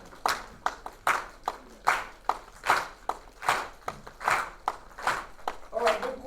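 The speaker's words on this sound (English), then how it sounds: "One clap each. Keep that going." Audience clapping together in a steady shared rhythm, one clap each, about eight crisp even hits spaced under a second apart, with a faint voice briefly at the end.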